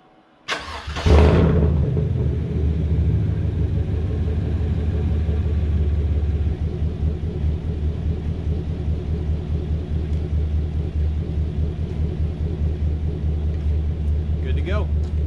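Truck engine cranked up after a 2.5 to 3 inch leveling kit install, catching with a sharp start and then settling into a steady low idle rumble nearby, with a voice speaking over it.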